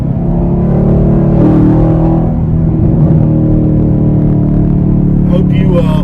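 A Chevrolet Camaro SS exhaust rumbles steadily in third gear while driving through the city, a loud continuous low drone with engine whir and a slight rise in revs, and a voice talks over it throughout.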